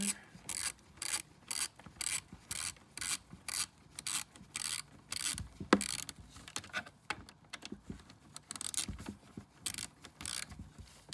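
Oil filter spun on by hand during an oil change on a 2001 Yamaha Kodiak ATV, a rhythmic series of close, rasping turns with regular pauses between twists, no talk.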